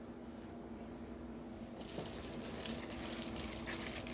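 Water runs into a stock pot from a tap, a soft trickle that grows into a fuller, splashy pour partway through, close and fairly quiet.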